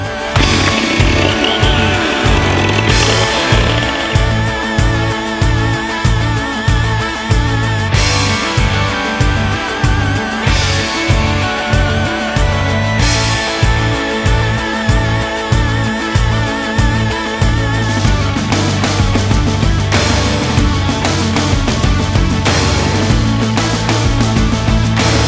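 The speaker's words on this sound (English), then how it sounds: "I can saw things on the ground without it bothering me that I'm" Dull chainsaw cutting wood on the ground at a farmhouse in winter, a loud engine drone throughout with repeated rhythmic revving pulses as it bites through the wood, close and continuous with no talk.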